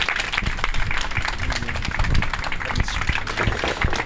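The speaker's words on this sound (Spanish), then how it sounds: "Un aplauso para Andrés Manuel López Obrador." Audience applause for Andrés Manuel López Obrador at a rural and migration gathering in Mexico: steady crowd clapping throughout, mixed with voices and cheering close by.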